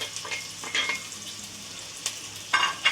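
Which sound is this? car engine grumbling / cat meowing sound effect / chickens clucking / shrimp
shrimp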